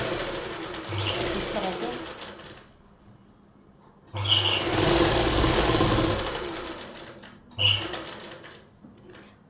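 A sewing machine stitches the lining of a plazo pant in two long runs and a short final burst, each with a steady mechanical whir. A voice speaks briefly between runs.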